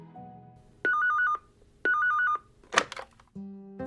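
A telephone rings in two loud electronic trilling bursts about a second apart, followed by a brief clatter and a steady low tone, with no talking.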